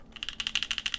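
Rapid keystrokes on a Mode Envoy mechanical keyboard, a steady run of about a dozen crisp, close clicks with even rhythm and no voices.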